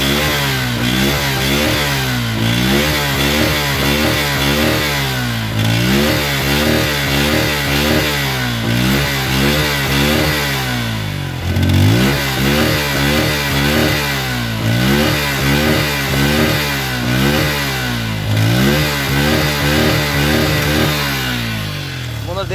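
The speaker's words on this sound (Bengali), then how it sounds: "দেখতে পেলেন বাইকটির ইঞ্জিন সাউন্ড আমি আপনাদেরকে এখন দেখাবো, দেখুন ইঞ্জিন সাউন্ড।" Suzuki Gixxer 155cc motorcycle engine revving repeatedly in loud, close bursts, the pitch climbing and falling in a steady cycle about every three seconds over a constant idle.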